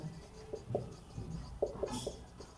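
Chalk or marker strokes on a board during a Class 12 maths lesson on functions, several short scratchy taps and scrapes in quick bursts, close by with a quiet room behind.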